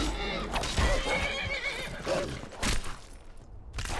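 Horse in Skyrim Special Edition neighing and whinnying loudly and close, with clip-clopping hooves and game noise around it.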